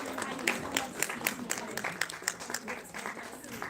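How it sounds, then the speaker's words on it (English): An event audience at a Basant Utsav gathering in Chandigarh gives a round of clapping for a sponsor called on stage, with scattered individual claps over a busy room murmur and voices. "A big round of applause for Aham Expedition"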